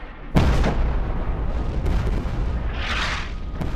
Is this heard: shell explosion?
yes